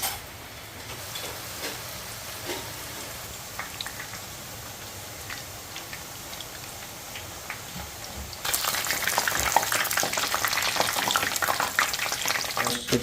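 Onion bajji fritters dropped into hot oil to fry, a close, continuous crackling sizzle that suddenly grows much louder and brighter partway through.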